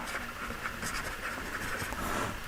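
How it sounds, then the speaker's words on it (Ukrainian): Pen or pencil writing geometry notes by hand on paper, a faint, steady scratching close by with light strokes and no talk. "Значить, так і пишу."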